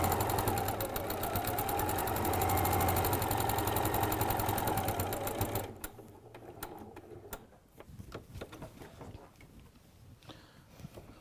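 Domestic sewing machine stitching fabric for quilting, a fast, even motor whir with rapid needle ticking that runs steadily, then stops abruptly, leaving quieter clicks and handling noises.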